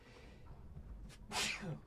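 A single sharp sneeze bursts out near the end, loud and close, after a stretch of quiet room noise.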